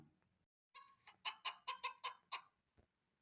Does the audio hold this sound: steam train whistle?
no